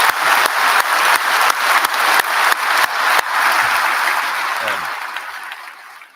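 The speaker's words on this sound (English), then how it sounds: "So can I ask you please to give all our team in the university a big round of applause." A graduation audience gives the university team a big round of applause, dense clapping with sharp individual claps early that gradually thins and fades out.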